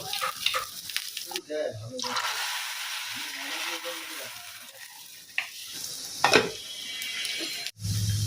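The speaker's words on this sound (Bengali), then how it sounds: "সেটার মধ্যে একটু ফোড়ন পেঁয়াজ দিয়ে মাংসটাকে একটু বাগার দেব" Cooked meat hisses and sizzles in a pan as a tempering of fried onions and spices goes in. Loud frying crackle, stirring scrapes and clinks of utensils, with occasional speech nearby.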